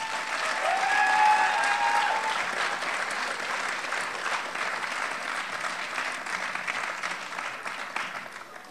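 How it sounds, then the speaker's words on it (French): Sustained audience applause fills a hall at the 2020 RBC annual gala, a dense, steady clapping that stays loud and even throughout with only a slight easing toward the end. "Donc, une bonne main d'applaudissements."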